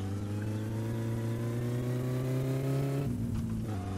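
The Satsuma car's engine in My Summer Car drones steadily at moderate revs, close and loud, its pitch easing off near the end as the throttle changes.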